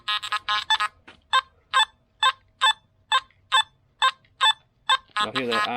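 A Nokta Makro Simplex metal detector with stock coil gives a rapid string of about ten short, buzzy iron grunt tones in a steady rhythm, with brief rustling noise at the start and end.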